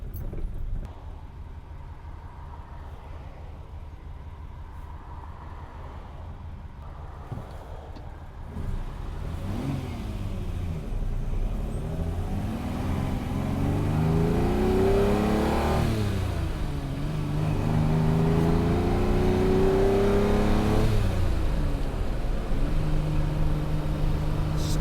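A Ferrari 330 America engine idling rough after winter storage, then revving up repeatedly with rising and falling pitch, loud and close with no talk.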